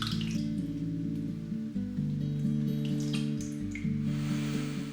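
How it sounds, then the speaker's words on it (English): Water runs from a tap into a pot holding a whole cauliflower, a steady pouring stream whose pitch shifts and climbs as the pot fills, close and continuous, with no talking. "Fill it up with water."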